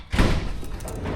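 A single heavy thud like a door slamming, close and fairly loud, around a vehicle being worked on for an electrical fault, with a duller knock trailing after it.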